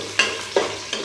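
About ten to twelve whole garlic cloves fry in hot oil for a dhaba-style dal tarka, giving a steady close sizzle broken by three quick scraping stirs.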